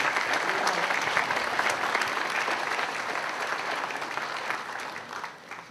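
Sustained applause from a seated audience honoring speaker Tom Carey, dense and steady clapping that fades slightly toward the end.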